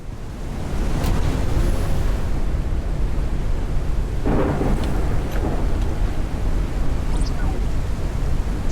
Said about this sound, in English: Finally get the builder and a storm comes.